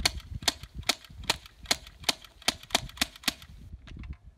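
An air gun fires about ten sharp shots at a rock outdoors, snapping in a steady, evenly spaced rhythm, loud and close, with no talk.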